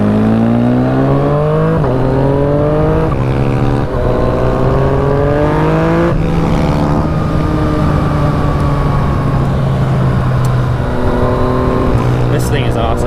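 Yamaha FZ09 motorcycle pulling hard through the gears with a quickshifter, its engine note climbing in steady sweeps broken by quick, clean shift cuts, loud and close throughout.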